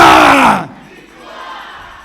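A church congregation in a French-speaking service shouts 'victory' together in one loud, full-throated burst lasting about half a second. It then drops quickly to a quiet, hollow room tone.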